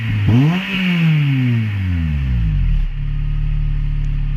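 A Honda Civic FN2 Type R engine with a new catback exhaust revs up hard, then drops back to a deep, steady rumbling idle, close and loud.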